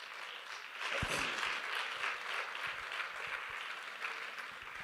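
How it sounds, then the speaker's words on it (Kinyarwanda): An audience breaks into warm, sustained applause at a diaspora gathering in Poland, the dense clapping swelling after a sharp start and holding steady for several seconds with no speech on top. "Ndagira ngo munyemerere twongere duha amashyi menshi cyane."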